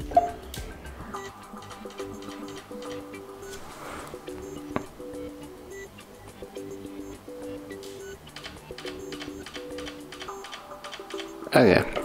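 Soft, regular clicks of keys being tapped on an LED keyboard app on an LG Velvet phone, repeating steadily through the clip, with faint background sound and a louder bump near the end.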